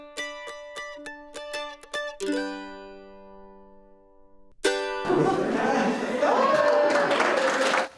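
Hospital staff at Health First break into sudden loud cheering and clapping after a stretch of ringing musical tones, and the applause and shouts continue at full volume to the end.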